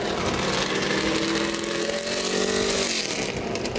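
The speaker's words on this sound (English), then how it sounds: "Cars are tuning in their engines right now." Several NASCAR Cup race car engines in the garage at the 2014 Kobalt 400 run loudly and continuously, their rough idle and revving tones layered and steady throughout.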